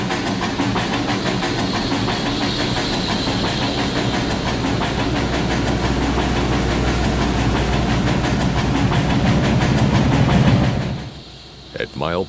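A Trainz video game train rolls on at reduced speed with a hot bearing on the lead truck, giving a loud, continuous rumbling, hissing rail sound with rhythmic clatter that fades abruptly near the end.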